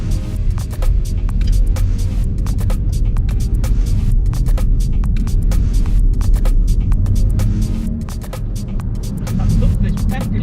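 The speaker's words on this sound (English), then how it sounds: "I love this peppy little engine." A Ford Focus hatchback's 1-litre engine while driving: a steady low drone and hum of the engine and road noise inside the cabin, continuous and fairly loud with no talk.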